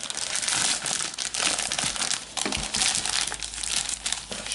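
Close, crinkly crackling of a plastic Topps Match Attax trading card pack wrapper being handled and cut open with scissors, with irregular rustles and snips and no talking.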